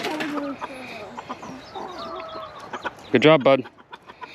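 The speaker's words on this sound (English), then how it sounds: "All right, the chickens are super excited." Backyard chickens cluck and chatter excitedly while pecking at fresh carrot greens pulled from a square foot garden, a steady busy flock noise close by, with a person speaking briefly over it.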